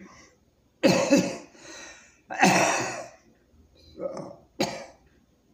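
Several harsh coughs close up, two heavy bursts followed by two shorter ones, with a brief spoken word between.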